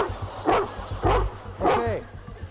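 A police dog barks three times in quick succession at close range, loud sharp barks with a slight whining tail on the last, over background noise.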